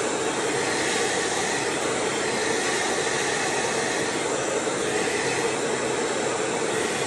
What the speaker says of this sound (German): föhne sie mir gegen den Strich